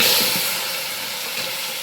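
Cooked beef and its cooking water are poured into a pan of hot masala and hiss sharply as a loud, continuous burst of steamy sizzle that slowly settles.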